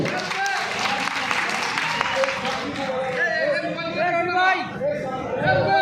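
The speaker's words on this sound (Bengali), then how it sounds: "আমরা করতালির মাধ্যমে তাদেরকে স্বাগত জানাই" A crowd at a political party joining event claps loudly and continuously while a voice speaks over the applause.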